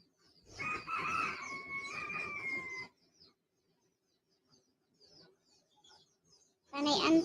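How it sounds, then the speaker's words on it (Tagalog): Chickens at a backyard coop, a loud crowing-like call with sustained tonal notes at the start, then near silence with faint scattered sounds before another close, loud cluck-like burst at the end. "Iba naman itong mga manok ko."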